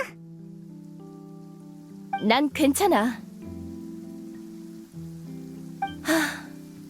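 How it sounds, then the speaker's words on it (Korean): Soft rain falls steadily in Genshin Impact behind quiet background music, while a voice briefly speaks and gasps over it. "비가 오는 것 같네."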